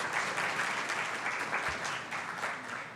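A church congregation applauds during a service. The clapping is dense and steady across the whole stretch, with many hands together and no talk over it.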